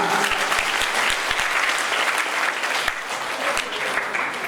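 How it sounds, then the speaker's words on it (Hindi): Loud, vigorous applause from the audience at a Bhagwat Katha in Ganga Das Temple, a thick continuous clatter of hands with a few heavier low thumps scattered through. "एक बार जोरदार तालियां"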